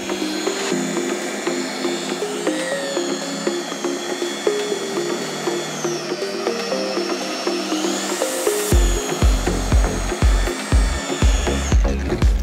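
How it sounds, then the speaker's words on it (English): A rotary polisher with heavy cutting compound works the paint of a 25-year-old Peugeot 306, giving a steady close-up high-pitched whine. Toward the end the whine breaks into several short knocks. "So that's the rotary polishing stage completed."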